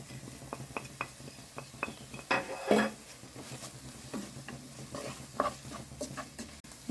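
Onion, garlic and a large pepper fry in a pot as spices are added and stirred in, with a soft sizzle, intermittent spoon scrapes and a few light metallic clinks, close but fairly quiet.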